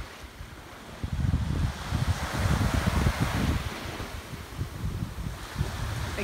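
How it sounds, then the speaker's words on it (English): Ocean waves wash onto a beach at sunrise, a steady surging roar with rolling swells rising and falling, mixed with wind buffeting the microphone and no voices. "might be interested in seeing a beach sunrise and listening to the waves for a"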